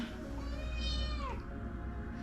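A pet cat gives one drawn-out meow that rises and then falls, heard close up over a low steady background hum, with no talking.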